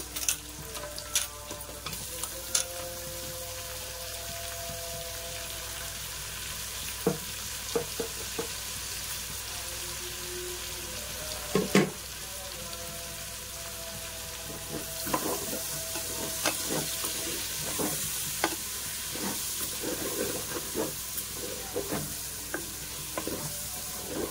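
Tomatoes frying in a pan for veg biryani produce a steady, close sizzle, broken by scattered sharp pops and faint clicks from stirring.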